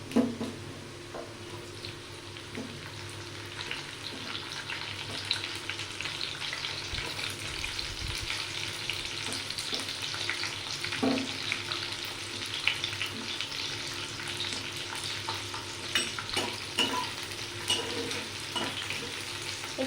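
Diced onions fry in a pan with a long, even sizzle, a close and moderately loud hiss that carries on without a break, with occasional light clicks and stirring knocks underneath.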